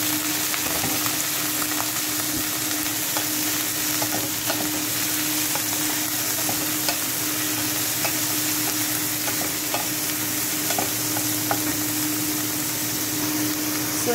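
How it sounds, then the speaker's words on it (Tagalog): Garlic and squid sizzling in a pan for adobong pusit, a steady close frying hiss with light stirring scrapes and small pops running continuously, no voices. "Antayin natin na mag light brown siya para makalabas yung bango ng garlic."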